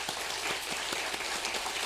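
A church congregation at Sunday worship claps for a newlywed couple, a brief, fairly faint patter of applause with scattered distinct hand claps.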